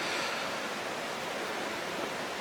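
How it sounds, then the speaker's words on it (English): The Nanaimo River flowing beneath an old steel truss railway bridge, a steady broadband rush of water heard close and continuous with no voices. "There's the river."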